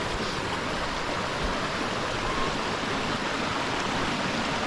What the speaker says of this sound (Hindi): अब ये उस तरफ आगे की तरफ में जा रहा पानी।